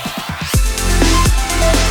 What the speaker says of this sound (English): So I've created this old school kind of breakbeat track.